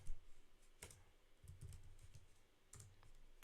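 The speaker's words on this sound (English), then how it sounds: "let me rerun this again and type the Alice" Keys clatter on a computer keyboard during a Python coding lesson, with a few scattered taps and short bursts of typing that sound faint and close.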